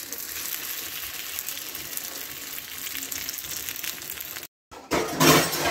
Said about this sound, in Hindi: अभी मेरा मोमो फ्राई हो रहा है